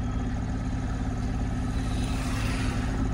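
A car engine runs steadily at close range in a traffic jam in Jalgaon, a continuous low hum with a slight rise in revs as the vehicle starts to creep forward; no one speaks.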